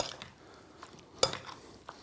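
A spoon scrapes and clinks against a bowl while stirring tomato coriander salsa with raw cane sugar, quiet and close, with one sharper clink partway through.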